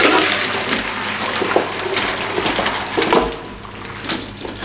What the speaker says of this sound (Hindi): ये देखें यखनी इसकी जो नीचे आ गई इस तरीके से